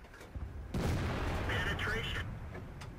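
A Tortoise tank's 120mm gun fires in World of Tanks, a single loud, heavy boom with a long rumbling tail, followed by softer battle noise.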